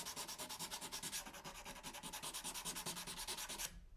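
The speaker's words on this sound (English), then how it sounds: "Next, I'll start polishing off any tool marks with some 320 grit sandpaper." Steady back-and-forth rubbing of 320 grit sandpaper polishing guitar frets, a quick even rhythm of soft rasping strokes, close and alone, stopping just before the end.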